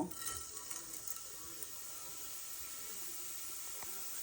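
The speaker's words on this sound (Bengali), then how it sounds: "এর মধ্যে আমি এখন আস্ত জিরার ফোড়ন দিয়ে দেব" Whole cumin seeds hit hot oil, and after a few soft knocks a steady, quiet sizzling hiss settles in and holds to the end.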